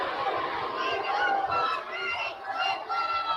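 A college baseball crowd at a UC Santa Barbara versus Hawaii game groans and murmurs in displeasure, a dense, steady wash of many voices that dips briefly midway before swelling again.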